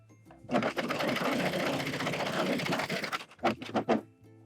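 A Husqvarna Viking coverstitch machine with a hemmer attachment runs in one steady, close, loud burst lasting about three seconds, then gives a few short stuttering pulses as it stops.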